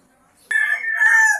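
A rooster crows loudly and close by, one sustained cock-a-doodle-doo following a sharp onset, with no talk over it.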